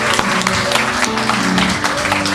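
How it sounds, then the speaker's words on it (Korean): A crowd at a live political talk event claps briefly for a lawmaker, with close, dense clapping over steady tonal background sound. "큰 박수 부탁드립니다."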